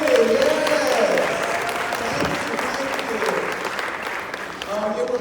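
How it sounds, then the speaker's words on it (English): An audience at a police district council panel event bursts into sustained, dense applause that fills the whole stretch, with cheering voices mixed through it and the clapping easing slightly toward the end. "give some applause"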